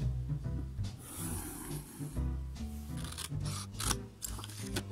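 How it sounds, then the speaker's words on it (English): Scissors snip through paper strips during a craft project making homemade scratch cards, a series of close crisp cuts with soft rubbing between them, heard alone without talking. "Next, I'm cutting some paper strips."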